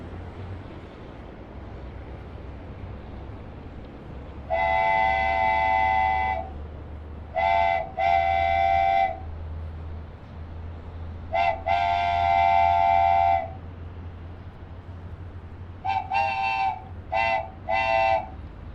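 Small live-steam locomotive running a loop of track at an outdoor forest festival, sounding repeated whistle blasts, some long and some in short clusters, over a steady low rumble and outdoor background.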